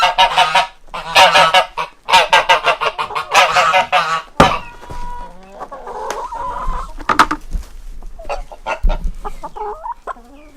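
Chickens in a greenhouse cluck and squawk loudly and close by in rapid bursts. Softer clucks, rustling and scattered bird calls follow.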